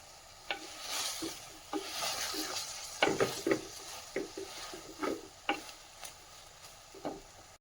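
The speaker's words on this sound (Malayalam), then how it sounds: "ഇത് നന്നായിട്ടൊന്ന് ഇളക്കി യോജിപ്പിക്കണം" A spoon stirs turmeric into a creamy soybean curry in a pan, making close, irregular scraping and clinking strokes over a soft sizzle.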